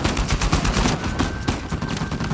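Gunfire in the video game Uncharted 4 comes as a dense, loud fusillade of rapid overlapping shots and crackling bursts that rolls on without pause and fills the whole moment, with no talking.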